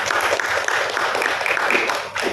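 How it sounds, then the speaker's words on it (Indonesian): A seated audience at an Indonesian UMKM go-digital product exhibition and applied art workshop applauds to welcome a guest: dense, steady clapping with some low murmuring throughout. "Berikan tepuk tangan terbaik untuknya"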